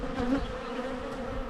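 Honey bees hum steadily around flowering manuka at an Australian apiary, a close, continuous buzzing drone with individual bees passing by the listener, and no voices.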